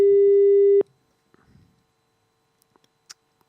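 A single steady telephone ring tone sounds clearly during a call placed live on a radio morning show, stopping abruptly after under a second, followed by faint clicks and near silence.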